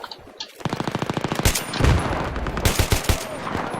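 Rapid automatic gunfire rattles in Battlefield 3 multiplayer combat, a loud, close stream of shots with short bursts and overlapping fire from other weapons.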